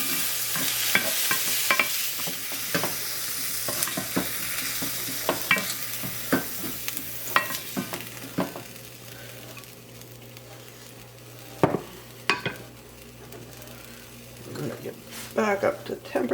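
Meat searing in a hot frying pan, a steady sizzle under frequent sharp clicks and scrapes of stirring or turning, with a person talking over it.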